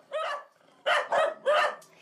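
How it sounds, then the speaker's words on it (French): Puppies crammed into small, squalid cages bark in sharp, close yips, four quick bursts with brief gaps between them, loud and alone without voices. "Des chiots entassés les uns sur les autres ou enfermés dans de petites cages sordides"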